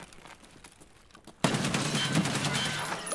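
Sustained rapid gunfire from an Escape From Tarkov firefight bursts in loud and dense after a quieter opening stretch, with overlapping shots and automatic fire continuing steadily to the end.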